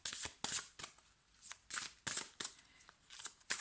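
Oracle cards being shuffled by hand, a run of crisp riffling bursts coming in an uneven rhythm, close and fairly quiet, with no voice over them.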